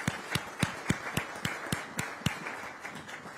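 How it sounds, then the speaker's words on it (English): An audience at a CAF press event claps for Total Energies in sparse, evenly spaced claps, about a dozen sharp hits with a moderate, roomy quality and no voices over them. "Can we clap hands for Total Energies?"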